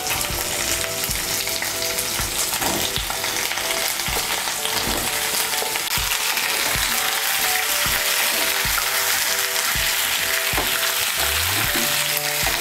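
Cut raw sweet pumpkin pieces sizzle loudly in hot oil with drumsticks in a pan for a vegetarian pumpkin curry, a steady broadband crackle with occasional stirring clinks and scrapes throughout.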